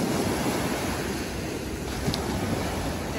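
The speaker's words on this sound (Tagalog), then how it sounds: "Medyo maalon ngayong umaga." Choppy morning sea waves roll and wash in a constant broadband roar, loud and steady, with wind buffeting the microphone throughout.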